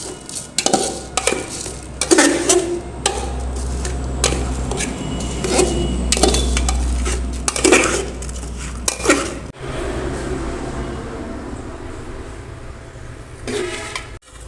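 Khichuri frying in oil in a pot is stirred vigorously, with repeated scraping and clanking strikes of a spoon against the metal pot over a low sizzling hiss, close and loud, then quieter frying.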